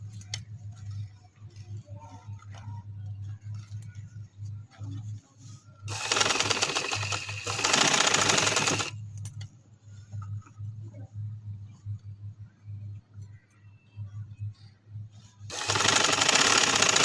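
A sewing machine stitches kameez fabric in a home tailoring setting, with two loud close bursts of rapid mechanical stitching amid quieter handling noise and a low steady hum, then a third burst starting near the end.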